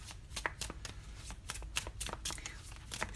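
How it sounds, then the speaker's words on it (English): A deck of cards being shuffled by hand, a rapid run of crisp riffling flutters and snaps, close and fairly quiet, with no talking. "I'm going to shuffle these better."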